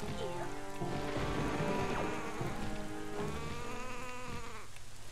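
Continuous rainfall in the video game The Legend of Zelda: The Wind Waker HD patters on a surface, with tonal bird chirps and calls drifting over the constant hiss.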